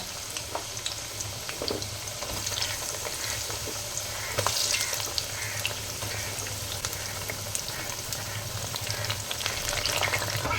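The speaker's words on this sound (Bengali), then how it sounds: "গাজরগুলো ফ্রাই করে নেবো হালকা হালকা।" Carrots fry lightly in hot oil, a loud, close, continuous sizzle with a dense bubbling hiss that holds steady throughout, broken by occasional faint clicks.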